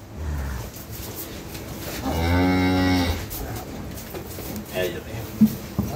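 A dairy cow at a cattle farm in Dinajpur lets out one loud, drawn-out moo close by, with murmured talk and farm noise around it before and after.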